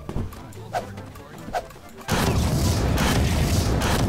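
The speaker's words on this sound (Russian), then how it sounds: "Да такие взрывы мощные." A sudden loud Garry's Mod explosion hits at about the two-second mark, followed by a sustained roaring rumble. A few faint thuds come before it.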